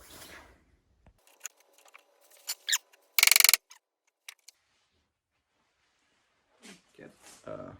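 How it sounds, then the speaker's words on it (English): A hand crimping tool squeezing cable lugs for a 12 V solar power setup, with sparse ratcheting clicks and one brief loud metallic crunch, then a voice talking. "I've got some lugs. I'm going to crimp them with this."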